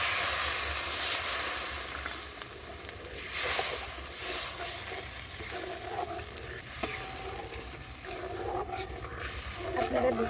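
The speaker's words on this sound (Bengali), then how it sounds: "এবার আমি এক বাটি জল দিয়ে দিচ্ছি।" A bowl of water poured into spice paste that is frying in a pan, bringing a steady hiss and sizzle with stirring and scraping underneath. The sound holds fairly loud throughout and nobody speaks.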